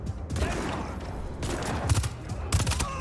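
Rapid bursts of submachine gun fire in the open-world action game Just Cause 4, several short volleys over a busy backdrop of in-game action and ambience, with nearby explosive cracks.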